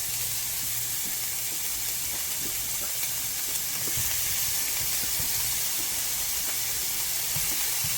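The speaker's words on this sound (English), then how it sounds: "So I'm gonna go ahead and put in my sausages. I'm gonna let these start cooking up first." Sausages sizzle in a pan in a loud, continuous hissing fry with a dense crackling texture that holds steady throughout, close up, with no one talking.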